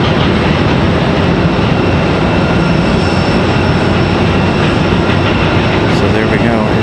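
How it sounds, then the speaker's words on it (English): Jet engines of an Airbus A319 departing Raleigh-Durham airport, a loud, continuous, dense roar filling the whole clip without letup. "That A319 we heard starting up there"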